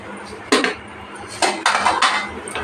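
Coconut and oil are stirred together in a bowl, producing a few sharp clinks and scrapes of a utensil against the bowl, close by, with short pauses between strokes.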